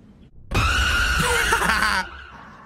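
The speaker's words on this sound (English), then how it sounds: "It's a freaking, what are they called? Groundhogs? And they do those freaking loud screams." A groundhog lets out one loud, piercing scream lasting about a second and a half, harsh and shrill, rising abruptly and cutting off sharply, heard alone and close.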